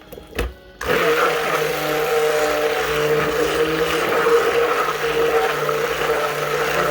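A blender mixing a thick black lava sea salt batter, starting with a couple of brief bumps and then a loud, steady motor whir that runs without a break until the end.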